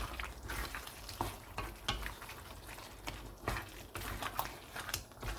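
Green chili and dried coriander are stirred into frying white chicken curry, a soft sizzle under repeated scraping and clacking stir strokes, quiet and close.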